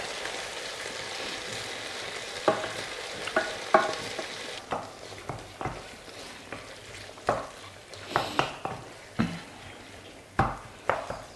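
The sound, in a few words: stirring tomato sauce in a pan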